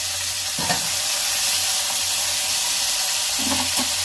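Bhola fish head frying in oil in a pan, a loud, steady close sizzle with a couple of brief utensil knocks, and no voices.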